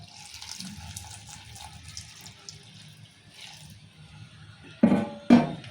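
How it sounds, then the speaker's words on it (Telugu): Water poured into a pot of soya chunks for curry, a faint trickle early on, then two loud splashing pours near the end, close and alone. "ఇలా వాటర్ పోసుకుందాం"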